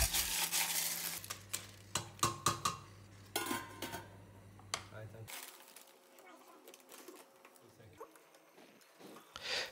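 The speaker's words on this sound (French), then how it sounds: "je n'ai plus qu'à mettre cette sauce dans une casserole et ajouter les vongoles. Remuer" Clams and sauce are stirred in a saucepan, with repeated metallic clinks and scrapes of a utensil against the pan, some clattering, and a voice speaking French throughout.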